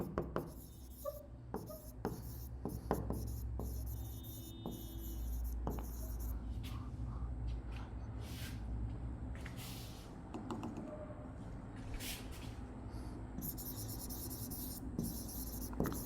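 Pen scratches across paper while a coordinate geometry solution using the Pythagorean theorem is written out, a close, continuous run of scribbling strokes with short pauses and faint taps over about sixteen seconds.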